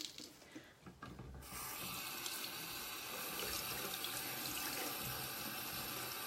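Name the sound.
paintbrush rinsed under running tap water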